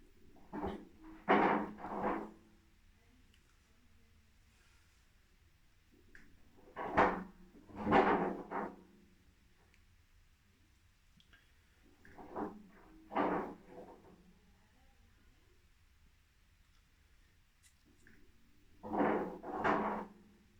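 An LG ThinQ washing machine with its door locked begins a tub clean cycle, giving clusters of dull knocking thuds and rumbles that return every five to six seconds, with quiet gaps between them.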